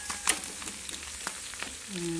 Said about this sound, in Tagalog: Yung ating pinirito, luto na din.